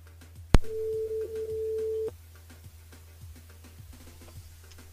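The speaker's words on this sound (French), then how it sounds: "on va voir s'il n'est pas occupé. C'est parti, Giovanni sur le standard" A single tone sounds on a line during a French radio call-in show as the host dials a listener named Giovanni, holding steady for about a second and a half before cutting off into quiet.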